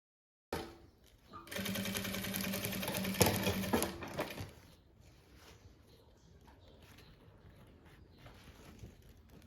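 A domestic sewing machine stitches bias binding onto a folder, running in one steady rapid burst of about three seconds before stopping, leaving faint handling noise.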